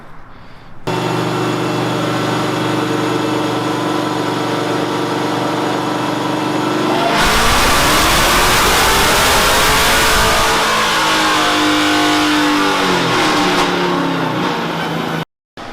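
A Dodge Challenger SRT Hellcat Redeye engine idles steadily on a dyno, then revs hard and climbs through a long loud pull before dropping off, heard up close with no talking.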